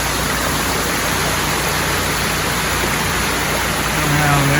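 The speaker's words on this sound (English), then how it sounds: "There's a waterfall up yonder." Steady broadband rush of a waterfall near a creek and an old bridge along a mountain railroad track, a dense continuous roar filling the whole stretch with a low hum beneath, no talking over it.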